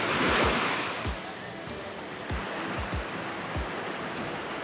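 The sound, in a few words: ocean waves crashing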